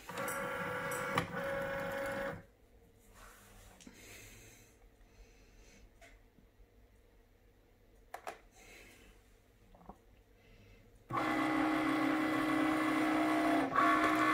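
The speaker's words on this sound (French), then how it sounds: "la machine va commencer d'abord avec son point lumineux qu'on voit un petit peu venir chercher les repères du contour" A Cricut cutting machine running a print-then-cut job on sticker sheets: a loud steady mechanical whir for about two seconds, a long quiet stretch with faint clicks while its light sensor searches for the black registration marks, then the loud motor hum resumes.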